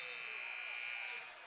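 A basketball game buzzer at a high school gym sounds the end of the third quarter with one sustained electronic tone, loud and even, fading out at the end while a commentator talks over it.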